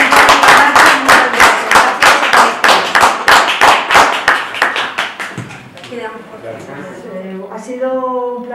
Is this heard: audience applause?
yes